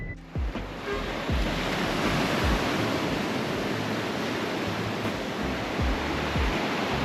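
Waves break on a beach in the Dominican Republic, a steady, loud surf roar with low thumps of breaking water and some wind buffeting the microphone throughout.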